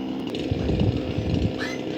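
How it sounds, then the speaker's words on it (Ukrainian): A chainsaw idles and revs steadily close by in a rural village yard as it warms up, a continuous loud engine drone with rising pitch near the end. "Чекає, щоб пилка нагрілась."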